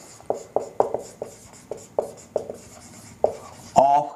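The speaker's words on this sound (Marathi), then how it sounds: "मी हेडिंग लिहितो." Chalk or marker writing a heading on a classroom board during a chemistry lecture: a series of short tapping strokes in uneven rhythm, fairly close and clear, ending in a brief louder scrape.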